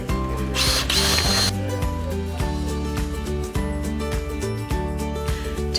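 A power drill drives screws into a window frame during an EZE Breeze vent installation, a close whirring motor run in a few short bursts with brief pauses between them.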